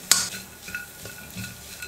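Ground spices are sautéed in a pan, heard as a few brief scrapes and clinks of a spoon against the pan over a faint sizzle, close and short.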